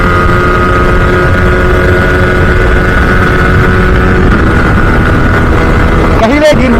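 A Yamaha R15 v3 motorcycle accelerates along a road stretch, its engine drone loud and continuous under heavy wind rush, with pitch climbing slightly toward the end.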